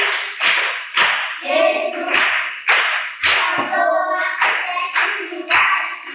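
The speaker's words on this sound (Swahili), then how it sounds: "Haya, pigeni makofi." Children clapping hands together in rhythmic bursts of sharp claps, about six rounds separated by short pauses, loud and close.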